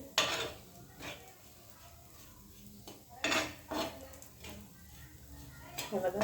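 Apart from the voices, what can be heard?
peanut chutney roasting in a little oil in pan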